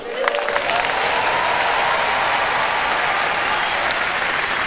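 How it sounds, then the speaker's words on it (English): A comedy show audience of African comedy fans bursts into loud, steady applause that fills the room, with a faint voice or whistle rising briefly near the start. "put your hands together for God Almighty."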